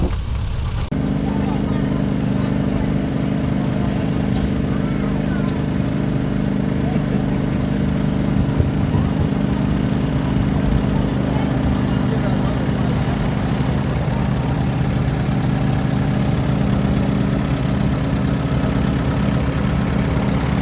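An antique gas engine runs steadily at a threshing bee show, a loud continuous low chugging drone that holds for the whole stretch without a break, surrounded by faint crowd and outdoor background noise.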